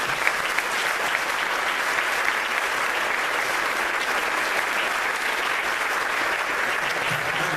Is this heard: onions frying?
no